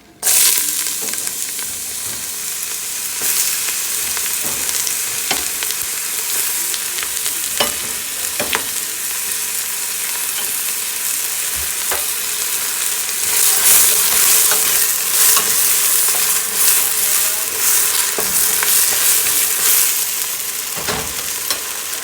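Onions fry in hot vegetable oil, a loud continuous sizzle with crackling spits and occasional stirring scrapes, swelling slightly midway and holding steady for over twenty seconds.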